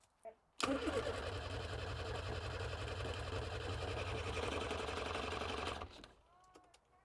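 A classic Mini's 1275 engine cranks steadily on the starter for about five seconds, a loud rhythmic mechanical churning without catching, stopping abruptly with quiet afterward.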